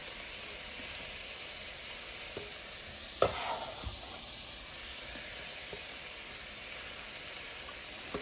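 Chopped onion hits a hot pan with oregano and crushed red pepper flakes for chicken pesto pasta, giving a steady, close sizzling hiss with a couple of sharp utensil clinks partway through.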